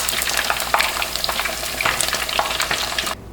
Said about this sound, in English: I'm gonna continue frying the rest.